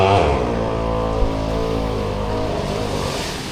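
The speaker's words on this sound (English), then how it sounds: "That's a hedge trimmer, if you're wondering what that is." A petrol hedge trimmer runs steadily nearby during a beach walk in Sanur, its small engine droning with a buzzing, motorbike-like tone and a slight swell at the start.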